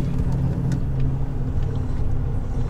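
A KamAZ dump truck slows under engine braking, its diesel giving a steady, heavy low drone heard from close by, with faint rattles over the top.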